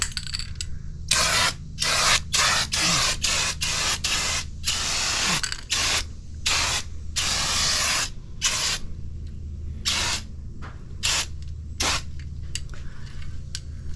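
Rust-Oleum Turbo spray paint hisses from an aerosol can as undercoating goes onto a Chevrolet Suburban's underside, loud, close bursts of varying length separated by short pauses over steady low background hum.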